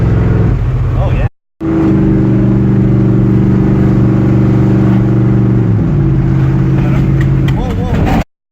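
A 1993 Chevy K1500 truck driving, its engine droning loud and steady with a shift in pitch partway through, close up with a brief cut in the middle.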